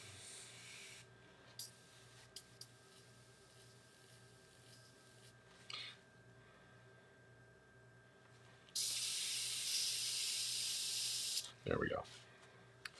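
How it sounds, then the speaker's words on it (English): A no-name airbrush compressor hums faintly and steadily throughout while Warhammer Dark Angels vehicles are painted, broken by a few soft knocks and one few-second burst of airbrush spray hiss. "That's the penalty of airbrushing is you do hear a compressor."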